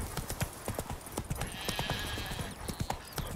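Horse hooves clip-clop in quick, steady beats as a rider travels along a path in the video game The Witcher 3: Wild Hunt, close and clear, with a faint whooshing hiss in the background partway through.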